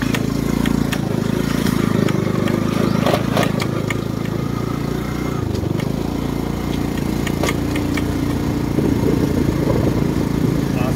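A motorcycle engine runs rough at low revs while riding through flood water, sputtering and dipping as if about to stall, with splashing clicks over the steady mid-pitched drone.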